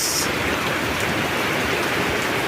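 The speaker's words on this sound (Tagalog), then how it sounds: "Malakas talaga yung ulan guys." Heavy rain pours steadily, a dense, even hiss of drops drumming on surfaces with no letup.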